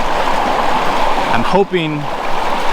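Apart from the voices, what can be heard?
stream water flowing over rocks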